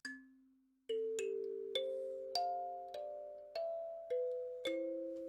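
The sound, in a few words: kalimba being plucked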